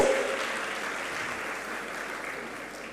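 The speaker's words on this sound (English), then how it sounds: "Please a round of applause for him also." An audience at a formal panel event gives a round of applause, a steady wash of clapping that fades gently over a few seconds without voices.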